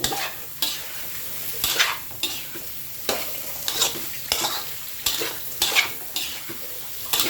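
Mushrooms and long beans are stir-fried in a pan, with a spatula scraping and tossing in repeated strokes roughly every second over a steady close sizzle. No one speaks.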